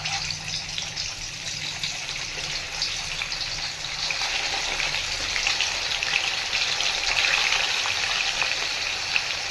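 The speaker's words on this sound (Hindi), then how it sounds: "एबे गोटे गोटे करी तेल रे माछ गुड़ी को फ्राए करवा" Fish pieces frying in hot oil give a continuous bubbling, sizzling wash that grows slightly louder toward the end.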